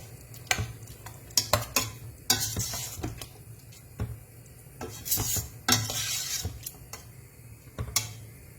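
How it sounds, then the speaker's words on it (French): Rice being stirred in a cooking pot, with a spoon scraping and clinking against the metal in irregular bursts over a soft simmering sizzle, close by, no voices. "j'ai mis le riz. Je vais remuer."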